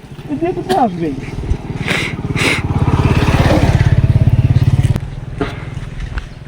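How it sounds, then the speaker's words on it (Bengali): A motorcycle engine idles close by with a steady, throbbing pulse that swells in the middle, while people talk over it. "বাইক আছে বাইক আছে"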